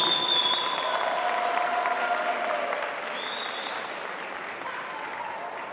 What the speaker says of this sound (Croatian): Molim jedan veliki pljesak za Maju Cupić.